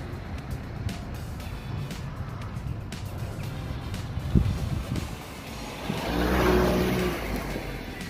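A used Opel Corsa bought cheap, heard from inside as it drives off in cold weather, with a steady low engine and road rumble that swells midway as it speeds up.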